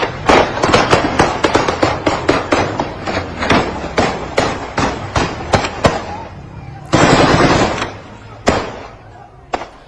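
Gunfire aimed at protesters rings out as a rapid string of sharp, loud cracks at uneven intervals, with a longer burst of noise near the end and a few scattered shots before it fades.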